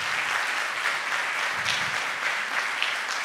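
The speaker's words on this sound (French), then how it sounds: "juste prendre deux secondes pour faire un applaudissement" Audience applause at an award ceremony, a moderately loud, continuous patter of clapping from a gathered crowd, fairly even with slight swells.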